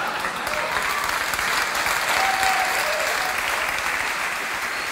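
Studio audience at a late-night talk show claps steadily and loudly, a dense sustained round of applause with faint voices beneath.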